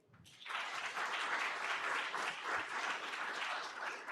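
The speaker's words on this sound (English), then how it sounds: "Give them their applause" Applause from an audience at a school district board meeting, a dense, even patter of many hands clapping that starts quickly and holds steady for several seconds, moderately distant, with no talk over it.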